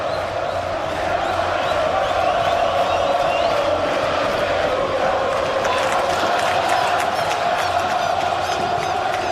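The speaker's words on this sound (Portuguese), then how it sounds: "O som que vem das arquibancadas para ajudar o time do Guarani." A stadium crowd of Guarani supporters roars from the stands at a Campeonato Paulista match against Ponte Preta, a dense, continuous wash of voices and cheering that holds steady throughout.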